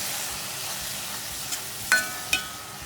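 Beetroot halwa cooked with milk stirred in a pan over low flame, a faint, soft sizzle with a few sharp clinks of the spoon against the pan near the end, close with no voices.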